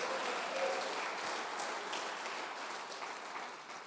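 Church congregation clapping their hands together during a worship service, a dense, steady wash of applause that fills the room and fades slightly toward the end.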